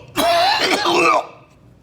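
A single person gives a forceful cough pushed out through the mouth after a nasal inhale, one harsh burst lasting about a second, close and loud, with no talking.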